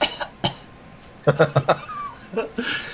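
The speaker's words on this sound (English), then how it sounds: "Cough twice." A few short coughs at the start, followed by a quick burst of choppy vocal sounds, like a mock cough or chuckle, from one nearby voice.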